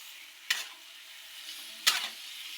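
Masala roasting in a pan gives a faint, steady sizzle, broken by two sharp scraping stirs about a second and a half apart.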